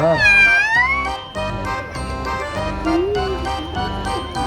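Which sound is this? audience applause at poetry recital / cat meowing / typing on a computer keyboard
cat meowing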